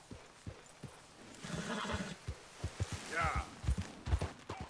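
Horse in the game Red Dead Redemption 2 whinnies loudly around the middle, with a run of sharp hoof clip-clops growing stronger toward the end, all under game ambience.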